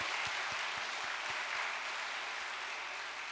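A church congregation gives a big round of applause during a farewell address, a dense steady wash of clapping with a few distinct claps early on, fading slightly toward the end.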